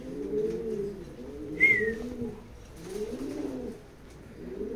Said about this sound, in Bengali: দুইটাই রেস করা কবুতর আর রানিং কবুতর।